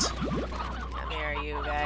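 Chickens cluck in the game Slime Rancher, a few quick rising clucks close up at the start, then fading under steady background hum and music.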